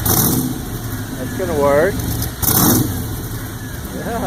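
A custom 1926 Model T hot rod engine running loud and close, revving up and down with rough mid-pitched rumble, while people talk nearby.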